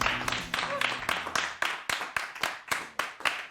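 A studio audience claps in sharp, evenly spaced beats, a quick rhythmic run of hand claps close and fairly loud.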